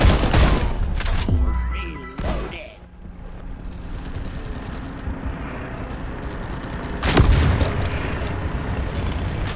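Heavy booming impacts in Deep Rock Galactic as a resupply pod crashes down during a Sunken Ground elite deep dive, with a loud rumbling thud early, another strong burst near the end and dense game noise between.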